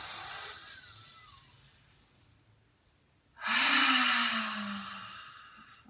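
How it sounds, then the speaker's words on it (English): A person takes a deep breath in and lets it out, two close airy rushes, the first fading over about two seconds, then after a pause a louder, stronger exhale. "Deep breath in, the deepest breath you've taken all day."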